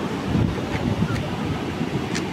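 Sea waves wash onto a shore muddied by debris the sea has thrown up, a steady rushing surf with wind buffeting the microphone, loud and close.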